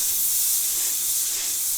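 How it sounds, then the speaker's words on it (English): Compressed air blasting from a nozzle, a loud steady hiss held close for under two seconds without voices. "it does push a little bit harder with the compressed air"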